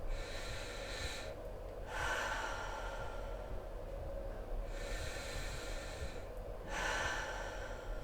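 Two slow, deep breath cycles, each a long airy inhale followed by a softer exhale, close and quiet, with no talking, during a rib mobility and diaphragm expansion exercise.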